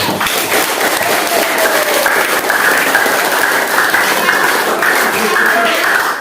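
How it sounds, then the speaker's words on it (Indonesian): Pupils in an Indonesian classroom applaud a classmate named Misda with loud, close, continuous clapping lasting several seconds, while voices talk over it. "tepuk tangan buat Misda"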